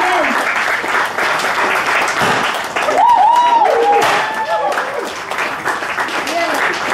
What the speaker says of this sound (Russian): Аплодисменты для Татьяны, победительницы второго сезона караоке битвы